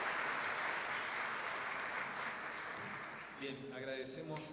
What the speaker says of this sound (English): A big round of applause for Mariana.